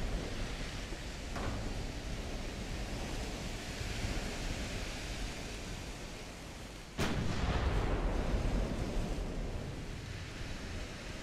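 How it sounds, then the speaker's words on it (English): Naval artillery fire in the Ultimate Admiral: Dreadnoughts warship game: a continuous rumbling roar of sea and battle, a faint early thump, then a sudden loud blast about midway that lifts the din. "So many shells coming at me."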